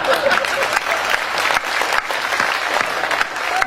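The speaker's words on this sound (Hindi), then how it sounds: "2-3 लोग ताली बजाइए" Dense, steady applause from a comedy show audience, many hands clapping at once and close, sustained for several seconds without a break.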